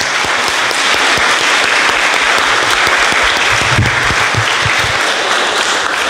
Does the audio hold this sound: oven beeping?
no